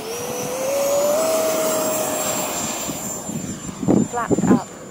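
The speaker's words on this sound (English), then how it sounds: "let's see if I can do a full flap takeoff" An HK Skysword RC model airplane takes off with full flaps, its electric motor whining and rising in pitch as it climbs away and fades, with wind noise and a few short spoken words near the end.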